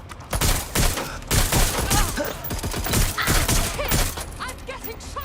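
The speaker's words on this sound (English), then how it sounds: "I'm getting shot at here." Rapid gunfire in Watch Dogs Legion, bursts of sharp shots in quick clusters with thuds and mechanical clatter, loud and close throughout.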